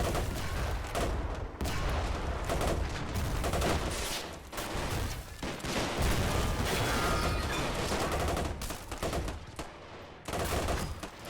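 Video game battle at the Siege of Tobruk: dense, continuous gunfire with overlapping bursts and rattling volleys, loud and close, filling the whole stretch with only brief lulls.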